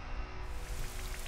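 Rain summoned by the Rain Dance move in the video game Pokémon Sword & Shield, heard as a steady, soft patter of rainfall with no voices.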